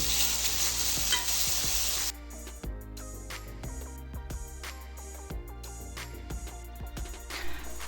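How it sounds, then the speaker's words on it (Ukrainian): Frying vegetables hiss loudly in a pan, then eggplant is tipped in and stirred, the sizzle dropping to quieter crackles broken by repeated spatula scrapes and clacks. "Зараз я сюди додаю баклажани, перемішую і вимикаю."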